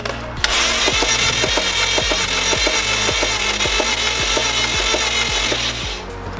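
Hand tools work on the broken, worn-out battery terminals of a Subaru WRX, giving loud, close, rhythmic metallic strokes repeated about twice a second for several seconds, with no talking.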